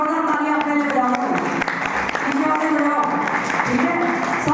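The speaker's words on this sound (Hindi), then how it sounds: "जोरदार तालियां अपने लिए बजाओ" Party workers and supporters applaud at a BJP election rally in Raipur Rani, Panchkula, with scattered clapping running under a voice addressing the crowd.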